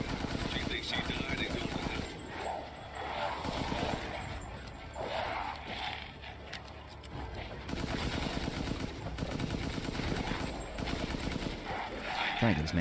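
Rapid, sustained gunfire from Resident Evil Village as Chris Redfield fights: dense machine-gun bursts and loud shots, with short pauses, continuing for the whole stretch amid crashing impacts.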